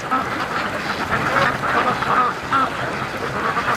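Alarmed free-range Muscovy ducks by a lake quack in a busy, overlapping chorus, near and fairly loud, with no talking.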